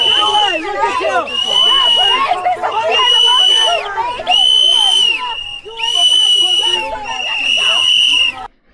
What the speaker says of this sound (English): a bunch of activists blowing these different rape whistles and everything at them